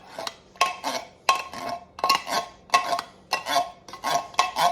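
Spoon scraping cream of mushroom soup from a metal can, a rhythmic series of about eight clinking metallic scrapes in steady pulses, close and fairly loud with no talking.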